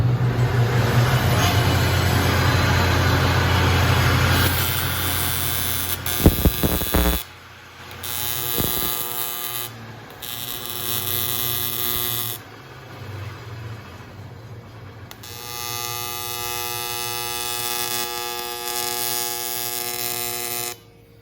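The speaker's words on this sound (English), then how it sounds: "now that they're all tack welded on, I'm going to tap this down into place" Tack welding tabs onto a damaged BMW transmission case, heard as loud, harsh electric buzzing that runs in sustained bursts and breaks off for short pauses between welds.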